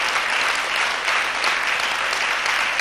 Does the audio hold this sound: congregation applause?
yes